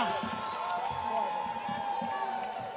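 Audience applause and cheering for the samba singers of Grupo Entre Elas at Samba da Feira, a steady dense wash of clapping and crowd noise lasting throughout, with voices mixed into the din.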